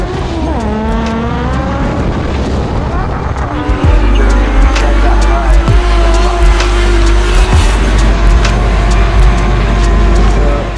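French drift championship battle at Croix-en-Ternois between a BMW E46 and a Nissan S13, engines wailing and rising in pitch as tires squeal and screech, loud and continuous with a commentator talking over it.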